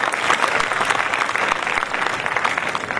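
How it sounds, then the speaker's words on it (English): An event audience breaks into loud, sustained applause, dense rapid clapping filling the hall evenly for the whole stretch with no talk over it. "So I would like all of you to please just applaud all of their efforts very loudly,"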